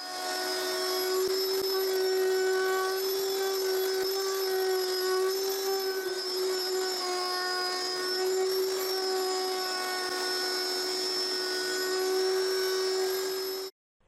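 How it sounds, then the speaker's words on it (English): A router fitted with a roundover bit whines steadily and loudly as it rounds the corners of a wooden box, cutting off abruptly at the end. "Now I use a roundover router bit to round all the corners of the box."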